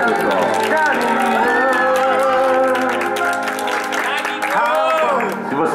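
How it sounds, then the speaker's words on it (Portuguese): A group applauds and cheers at a birthday surprise for a husband, with clapping mixed into lively crowd noise, overlapping voices and whoops, all fairly loud and close. "Pode bater palmas que ele merece, pessoal."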